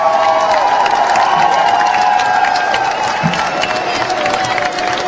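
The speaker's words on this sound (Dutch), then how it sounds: "Graag nog een daverend applaus." A loud crowd claps and cheers at a carnival prince installation night, a dense roar of applause with sustained tonal sounds running through it.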